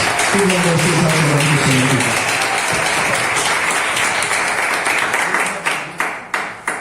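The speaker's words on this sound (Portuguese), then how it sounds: "Vamos receber o pastor com a linda salva de palmas." Church congregation claps to welcome the pastor during a worship service: loud, sustained applause with a voice rising over it at first, then thinning to a few separate, spaced claps at the end.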